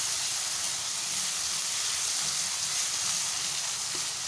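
Masala with yogurt fries in a pan for a chicken and potato salan, making a continuous, even sizzle and hiss close up with no pauses.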